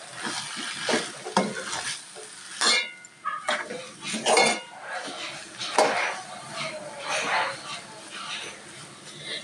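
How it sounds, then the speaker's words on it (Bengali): Noodles tossed with spice mix in a pan, uneven bursts of scraping and clattering as the utensil stirs against the metal, with talking in between. "এখন আমি ভালো করে নাড়াচাড়া করে নেব।"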